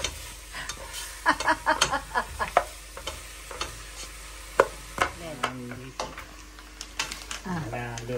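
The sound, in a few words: stirring chicken neck soup in a pot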